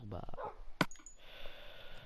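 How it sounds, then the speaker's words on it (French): Dogs barking at passersby outside a house, a single sharp bark mid-clip among faint scattered yelps and background noise, with a short spoken sound early on. "désolé si vous entendez des chiens aboyer"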